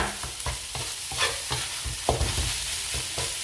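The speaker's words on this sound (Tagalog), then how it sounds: "At kailangan mabilisan lang ang paghahalo para hindi dumikit dahil yung aking kawali ay hindi siya non-stick." Pork fried rice is stirred fast in a non-stick-free wok, a steady sizzle broken by repeated scraping and tossing strokes of the spatula at a quick, uneven rhythm, close and loud.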